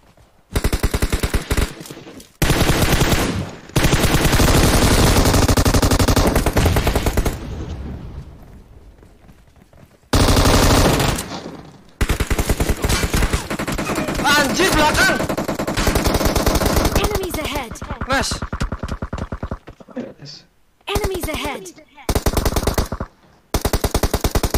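Automatic AKM rifle fitted with a muzzle attachment in the game PUBG fires in long, loud bursts near the listener, separated by brief pauses and trailing off into shorter volleys.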